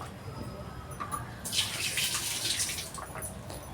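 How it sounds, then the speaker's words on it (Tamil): Tamarind extract is poured into a pot of vegetable sambar, a close, steady splashing liquid stream rising in the middle of the clip over a low background hum. "சாம்பாரை தேவையான அளவுக்கு புளி சேர்க்குறேன்"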